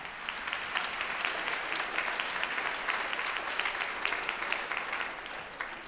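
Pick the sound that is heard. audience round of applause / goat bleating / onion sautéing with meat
audience round of applause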